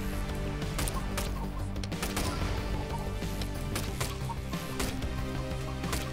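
Chickens cluck and squawk in the video game Octogeddon, buried in a dense, continuous wash of game music and crashing effects at steady volume.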